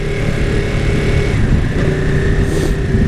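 A Ducati 959 Panigale twin-cylinder motorcycle engine runs close by with a steady, throaty rumble at a constant idle level, no other sounds over it.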